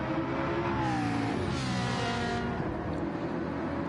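Ferrari and McLaren race car engines roar together in a Formula One–style racing video game, a steady loud high-revving drone with shifting engine tones throughout.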